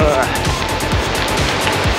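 A bike rolls over a large cattle grid, a rapid regular series of thudding bumps from the tyres crossing the bars, close and loud, with wind rush and a voice over it.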